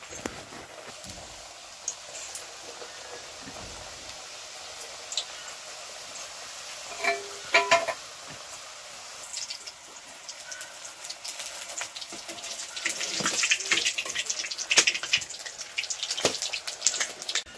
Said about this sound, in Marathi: आता चपाकळ्या तळून घेते.